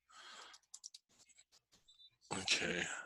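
Light, sparse clicks of typing on a computer keyboard, faint and irregular, followed by a burst of louder noise near the end.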